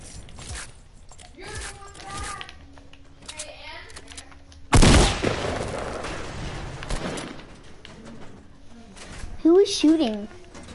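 Gunfire in a PS4 video game, with one loud, sharp burst of shots in the middle and another short burst near the end, amid game sounds and a player talking.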